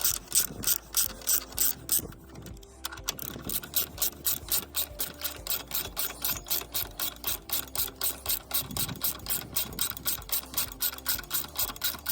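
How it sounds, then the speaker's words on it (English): A ratchet clicks steadily in a fast, even rhythm while tightening a bolt on a new hydragas mount of a Rover 75, close and clear, with a short pause partway through before the cranking resumes. "I won't tighten this all the way down because I need to take the bracket off again later"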